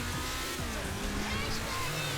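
A battered car races along in Grand Theft Auto V, its engine a constant loud roar with droning tones shifting as it speeds, and someone talks faintly underneath.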